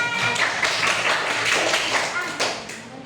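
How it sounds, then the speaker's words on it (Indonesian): Classroom students clapping their hands together, a dense burst of applause that carries for about two seconds and then thins out, with a voice talking over it. "Bagus, tepuk tangan."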